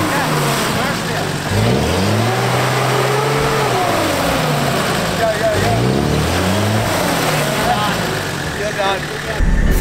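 A 4x4 engine in low second gear revs hard off-road in Tallarook, its rising and falling roar loud and close, while voices talk over it.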